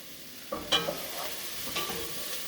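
Onions frying in a pan give a soft, steady sizzle, with a few clinks and scrapes of stirring over the low hiss.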